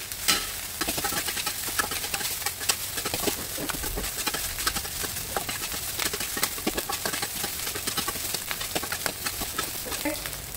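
Nasi goreng stir-fried in a wok over high heat on a home stove, with a continuous dense sizzle and rapid clattering scrapes of a spatula against metal throughout, close and loud.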